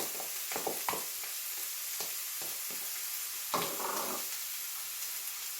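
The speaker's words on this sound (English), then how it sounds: "I'm just going to shallow fry that so that it softens" Chopped onion and tomato shallow frying in a pan for vegan quinoa burgers: a steady close sizzle with intermittent stirring scrapes and a louder burst of crackle partway through.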